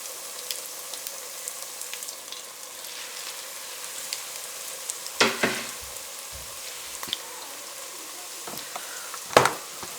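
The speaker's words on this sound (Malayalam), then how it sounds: "നമ്മൾ എഗ് ബോക്സസ് ഇട്ടിട്ട് ഫ്രൈ ചെയ്തെടുക്കാം" Egg puffs fry in oil over a low to medium flame, a quiet bubbling hiss broken by a few sharp spitting pops and crackles, with no talking.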